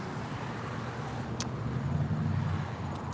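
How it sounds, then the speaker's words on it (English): Steady roadway rumble of a car passing nearby, with low engine and tire noise swelling slightly midway, plus a brief high click. "The silver car driving by me."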